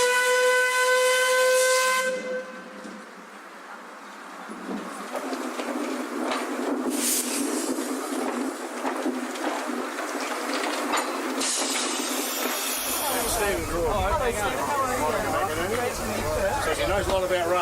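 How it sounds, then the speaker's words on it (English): The full-size steam engine Perron gives a loud, sustained steam whistle at a railway centenary, then a long, rushing steam hiss continues, with people talking nearby. "Monica's going to drive our full-size steam engine Perron"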